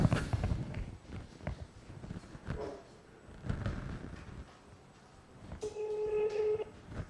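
A few faint button presses and shuffling, followed by a clear electronic phone tone near the end; quiet overall with no talking.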